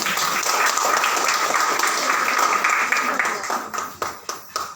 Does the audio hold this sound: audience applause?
yes